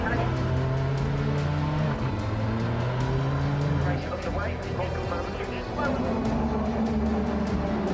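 Race cars running four abreast on a circuit, engines droning loud and continuous with shifting pitch as they battle for position, under steady commentary.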